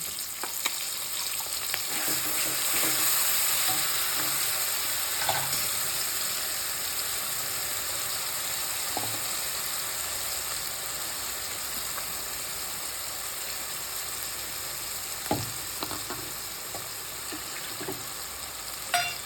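Onions and masala fry in a pan for an Odia-style prawn curry, giving a steady, even sizzle and hiss that runs the whole time with a few soft stirring knocks.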